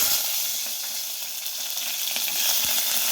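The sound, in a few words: cumin and mustard seeds sizzling in hot oil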